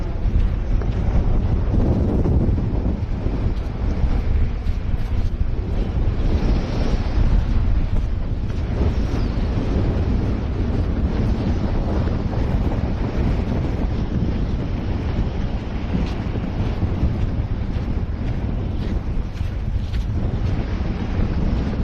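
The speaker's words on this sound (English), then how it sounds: "Jeez, it's windy." Strong wind buffets the microphone in a constant roaring rush on Mackay beach, Queensland, with the wash of surf beneath it and no voices.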